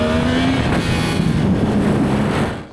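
Yamaha R1 sport motorcycle engine revving hard on a track day, a loud, steady high-rpm roar with a rising whine that holds for about two and a half seconds before cutting off abruptly.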